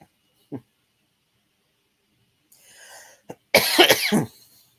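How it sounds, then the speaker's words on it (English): A few scattered coughs and throat-clearing sounds break a quiet background, ending in a louder burst of harsh coughing close by. "I might have to mute too, having a coughing fit."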